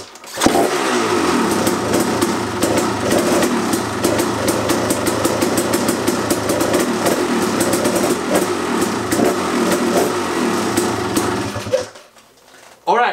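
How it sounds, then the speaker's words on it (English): A KTM 300 XC two-stroke dirt bike engine runs loud and steady after being kicked to life with a fresh spark plug, revving with a buzzy rattle for about twelve seconds before cutting off abruptly. "So I put new plug in, I went full throttle and keep kicking it and it fired up."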